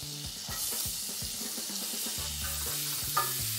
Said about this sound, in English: Just want to gently fry this.